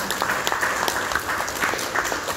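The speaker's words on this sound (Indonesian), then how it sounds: "Mari kita tepuk tangan." Audience applause at a seminar talk, a steady, dense clapping from a crowd filling the room throughout, fairly loud and continuous.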